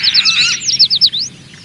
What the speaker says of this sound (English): They're birds, Billy.